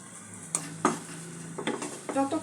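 Grated coconut is stirred in a pan for coconut sandesh, giving a few scraping strokes and clinks of a spoon on the metal pan over a faint sizzle, near and brief.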